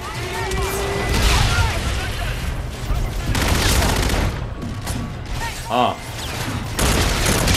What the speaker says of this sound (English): rocket launchers are not fair